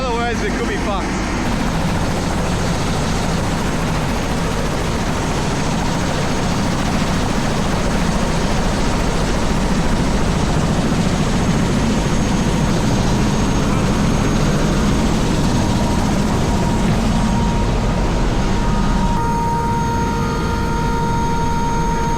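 A helicopter flies over mountainous terrain, with a loud continuous rotor and turbine roar heard from inside the cabin, steady throughout.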